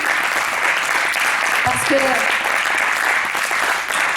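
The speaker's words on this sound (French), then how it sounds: "Alors vous pouvez vous applaudir les uns les autres" A church congregation applauds, steady dense clapping from many hands that stays loud the whole time while a voice speaks briefly over it.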